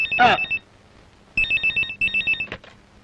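A telephone rings in loud trilling bursts, one short burst followed after a pause by a run of repeated warbling rings, close and clear in a quiet room.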